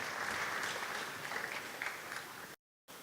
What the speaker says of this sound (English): a big round of applause, please, for Brajavilas Prabhu